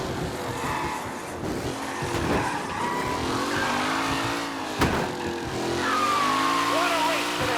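Race cars speeding and skidding in the Mafia video game, with continuous engine roar and drawn-out tire squeals throughout, under a commentator's voice.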